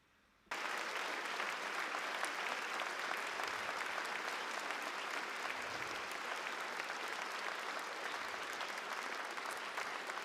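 An evening awards-ceremony audience applauding the jury members: sustained, dense clapping starting abruptly and holding steady from start to finish, heard from within the hall without talk over it.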